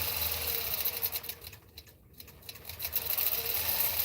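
A longarm quilting machine stitches at steady speed, a rapid, close mechanical patter that dips briefly in the middle, then resumes, with no talking over it.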